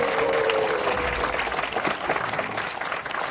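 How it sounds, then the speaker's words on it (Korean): An audience at a local forum on sex-education textbooks gives a full round of applause, dense and sustained clapping from many hands that stays loud throughout with no voices on top. "박수 한번 해주십시다."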